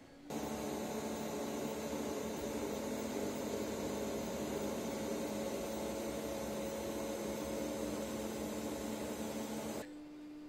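A quiet 3D printer fitted with TMC2208 stepper drivers runs steadily, giving a soft, constant whir and hum with faint stepper tones, then cutting off abruptly near the end.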